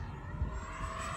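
A Freewing F-35 70mm RC jet with tailerons and flaperons flies past, making a steady, even rushing whine of moderate loudness with no voices over it.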